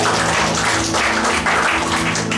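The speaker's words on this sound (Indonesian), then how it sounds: "Tepuk tangan buat Tuhan Yesus." A church congregation bursts into steady, dense applause right after a call to clap for Jesus during worship, the clapping sustained and fairly loud across the whole moment with a faint musical hum beneath.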